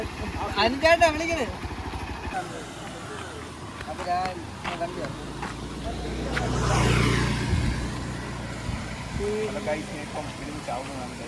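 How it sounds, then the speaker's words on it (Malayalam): A Hero Xpulse motorcycle is ridden into a stream, its engine idling and revving with a swelling roar midway, while people talk over it nearby. "ടിൻഡു വണ്ടി ഇതായി തോട്ടി ഇറക്കാൻ പോവുകയാണ്"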